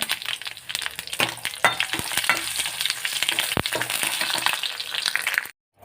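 Garlic and red chillies sizzle steadily in hot tempering oil, a dense close crackle with sharp pops and stirring clatter throughout. The sizzling stops abruptly into silence at the very end.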